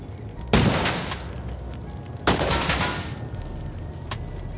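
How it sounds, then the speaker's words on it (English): Automated gun turrets fire in a video game, two sharp bursts of booming gunfire about two seconds apart followed by a fainter pop, heard at moderate distance over a rumbling background. "I think I just heard a bunch of turrets in there, maybe."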